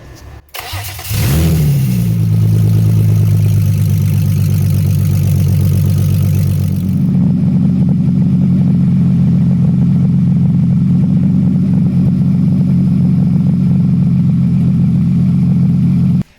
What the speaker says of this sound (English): we will start the car and watch for leaks